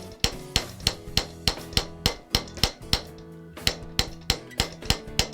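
A hammer strikes a metal bracelet held on a stake, giving a steady series of about fifteen sharp, ringing blows at an even rhythm, close up and with no talk.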